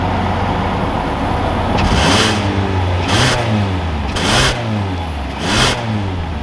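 A 2021 Kia Forte GT-Line pulls away, its engine revving up close through several gear changes, each climb in pitch followed by a short upshift break, heard clearly with no talking.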